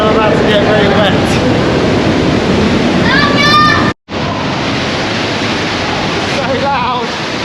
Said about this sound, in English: I guess it's all the power of the waterfalls.